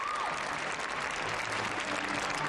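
Steady, dense applause and cheering fill a college women's gymnastics arena as a gymnast's dad and brother cheer her on, a continuous wash of clapping from the crowd with no break.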